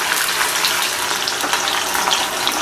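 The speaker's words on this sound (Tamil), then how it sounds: "நம்ம கத்திரிக்காயை பொரிச்சு எடுத்துக்கலாங்க எண்ணெயில" Brinjal (eggplant) pieces frying in hot oil give a continuous, fairly loud hissing crackle with scattered bright pops, steady throughout and without speech.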